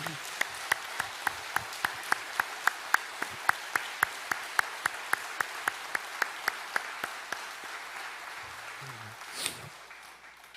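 In a church service, a congregation claps steadily in a regular rhythm of distinct, evenly spaced claps, fairly faint and distant, fading out near the end with a brief voice.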